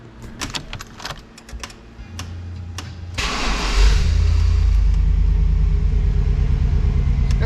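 Keys jingle briefly before a vehicle engine cranks and catches in an enclosed garage during a leak check, then settles into a loud, steady, rumbling run that fills the space.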